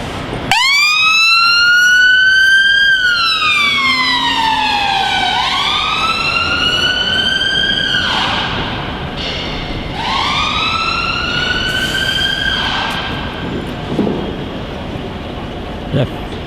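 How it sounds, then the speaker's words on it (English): An ambulance siren wails in loud, repeating rising-and-falling sweeps as it passes near Victoria bus station, with traffic noise underneath. "we've got an ambulance following up now."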